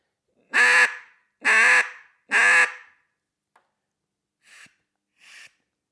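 Three loud, raspy quacks from a duck call in even succession, followed by two softer, shorter quacks with quiet gaps between.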